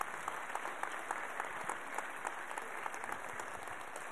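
An audience at a regional reception for a skills competition team applauds absent team members joining by video link, a steady, fairly distant patter of clapping with no voices over it.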